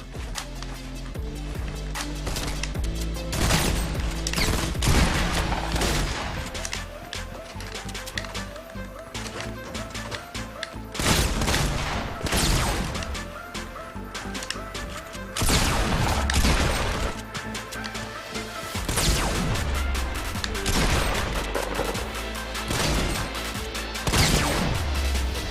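Fortnite shotgun fire during console gameplay, loud sharp blasts repeating at irregular intervals over busy game sounds and footsteps, with quiet talk underneath.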